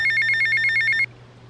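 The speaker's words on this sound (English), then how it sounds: "and I had a phone call from someone" An in-game telephone rings in a rapid electronic trill of a dozen evenly spaced pulses over a low steady hum, clear and close, then stops abruptly.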